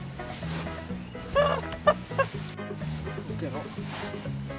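Fowl squawk and cluck in a few short, sharp bursts over a steady background hum, with a voice talking loosely nearby.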